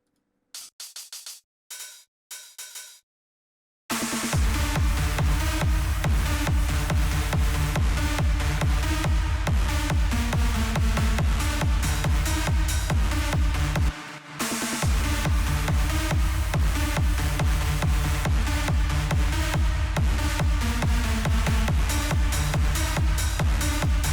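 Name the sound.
offbeat hi-hat in big room techno track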